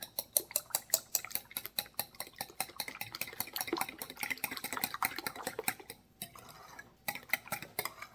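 Egg and cinnamon mixture for French toast being stirred briskly, with rapid, rhythmic clinks of a utensil close by. The clinking pauses briefly twice near the end, with no talking.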